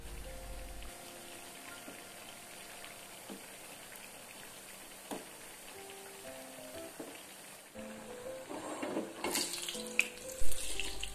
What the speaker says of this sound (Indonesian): Saya goreng tempenya segini dulu